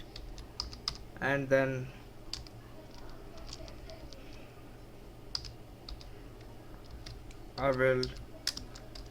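Typing on a computer keyboard during a JavaScript coding tutorial: soft, quick clicking keystrokes scattered throughout, with two short bursts of speech over them.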